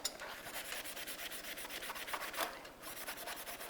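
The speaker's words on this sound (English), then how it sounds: "you're either going to use a wire brush and clean any rust or oxides off your metal, or you can also use a Scotch-Brite" Metal being scrubbed clean of rust and oxides with a wire brush or Scotch-Brite pad before oxyacetylene welding, a close, rapid rhythmic scratching rasp of repeated strokes.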